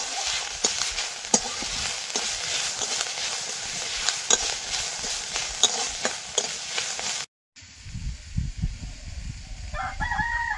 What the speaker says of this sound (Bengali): হলুদ দিয়ে সজনের ফুলটা ভেজে নেব